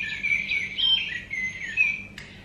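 Blackbird song played back by a press-button RSPB toy bird, a run of bright warbling phrases that fills a couple of seconds at close range before cutting off abruptly, with no talk over it.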